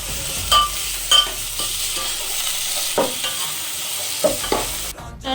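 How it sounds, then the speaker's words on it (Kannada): Peas and tomato frying in a pan for a mushroom gravy, with a steady close sizzle broken by several sharp scrapes of a spoon stirring, ending in a short pause. "ಬಟಾಣಿನ 2 ಮಿನಿಟ್ಸ್ ಫ್ರೈ ಮಾಡ್ಕೊಂಡಿದ್ದೀನಿ ಚೆನ್ನಾಗಿ. ಅದಾದಮೇಲೆ ಟೊಮೊಟೊ ಹಾಕ್ತಾಯಿದ್ದೀನಿ."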